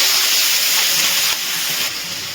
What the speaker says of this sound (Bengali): এবারে পেঁয়াজটা কিন্তু লাল লাল করে ভেজে নিচ্ছি।